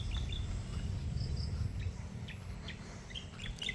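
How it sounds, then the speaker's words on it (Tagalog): High bird chirps ring out intermittently over a rural farm with carabao and cattle nearby, faint and scattered above a constant low rumble of background noise. "Kumakanta na ibon."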